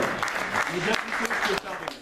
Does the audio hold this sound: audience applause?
yes